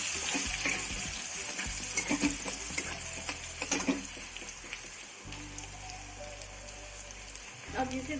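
Sliced onion is stirred into curry frying in a pan for a spicy Maharashtrian village-style chicken curry, giving a close, steady sizzle broken by scraping stirs and small clatters.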